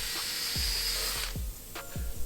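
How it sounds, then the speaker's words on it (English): A power drill fitted with a drill bit whirs close and loud as it bores into a car tire, then cuts out and gives a few short bursts of spinning with knocks in between, with no talking. "We got a drill and drill bits."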